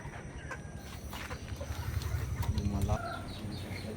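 A Gilmore Hatch gamefowl rooster clucks in its pen at dusk, a faint run of rapid clucks that swells briefly in the middle, heard alone without talk.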